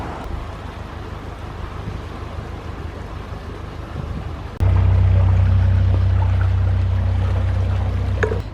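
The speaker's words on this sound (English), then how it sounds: "The water's a bit fierce when it comes in," Water rushes fiercely into a narrowboat canal lock as it fills, a dense continuous roar that suddenly grows louder and deeper partway through, with no voices.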